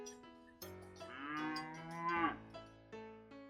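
A single cow lets out a long, drawn-out moo that swells and fades, set over a soft musical background.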